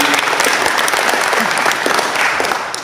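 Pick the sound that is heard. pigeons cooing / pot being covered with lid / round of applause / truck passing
round of applause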